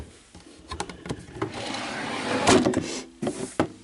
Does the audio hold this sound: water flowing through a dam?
no